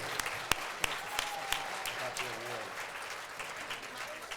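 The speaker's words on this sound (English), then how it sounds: "please give everybody our 2022 Women of Influence a round of applause again" An audience at a women's awards ceremony applauds the 2022 honorees with a few sharp claps and then a steady round of clapping, while a voice talks over part of it.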